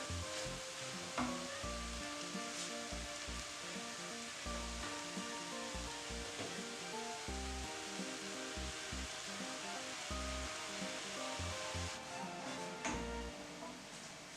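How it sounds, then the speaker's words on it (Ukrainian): Vinegar being stirred into warm, soft cooked purple cabbage gives a steady soft hiss and rustle with repeated low thumps, continuous and moderately faint beneath a rhythmic background pattern. "Ретельно перемішую, щоб весь оцет розчинився в капусті, щоб весь оцет поєднався з капустою."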